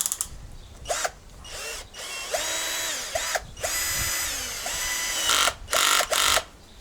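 A Vitals 18V cordless screwdriver whirs up close in repeated short bursts, its motor spinning up, holding and cutting off several times as it is switched through its speed modes, with no voices.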